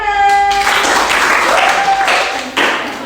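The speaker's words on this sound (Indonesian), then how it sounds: "Tepuk tangan." A burst of applause from a group of students in a classroom, many hands clapping together steadily for a few seconds before tapering off.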